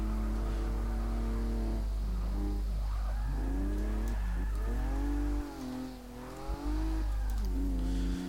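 Lexus SC300 with a drift build in Forza Motorsport 6, its engine revving loudly with rising and falling pitch and tires squealing as it slides, steady and close throughout.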